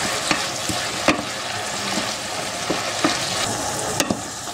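Meatballs sizzle and fry steadily in a pan as cognac is poured in, a close crackling hiss with scattered pops and light stirring clicks, loud and continuous without voices.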